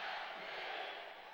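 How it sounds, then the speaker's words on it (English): Football stadium crowd at an LA Galaxy versus Minnesota United match, a dense, sustained roar of many voices heard at a distance, steady and fairly faint throughout the short moment. "the crowd erupts"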